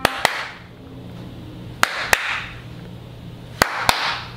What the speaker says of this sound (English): automatic clap lights, which turn on and off with the sound of a clap.